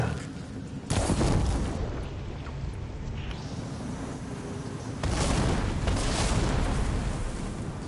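Explosions in the video game Horizon sound as long, dull booming rumbles, one after another, each swelling and fading with a loud, broad roar.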